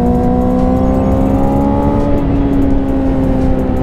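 Engine of a 2006 Yamaha R6 motorcycle, heard while riding: a loud, steady, high-pitched whine with pitch slowly dropping and rising, plus heavy wind rush.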